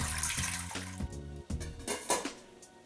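About 1.5 litres of water pours steadily into a metal pot on a stove burner, a hollow splashing stream with a ringing tone that shifts as it fills.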